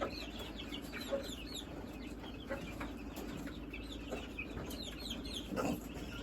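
A broody hen sitting on eggs in a village yard clucks in soft, irregular low calls, with faint bird chirps over a steady hum of background noise.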